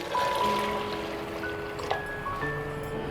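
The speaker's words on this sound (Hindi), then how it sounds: "तो ये मैं पानी ऐड कर रही हूँ।" Water pours into a pot of black chana shorba on a home stove, a faint, continuous trickling stream with a light splash near the middle, quiet and with no voice over it.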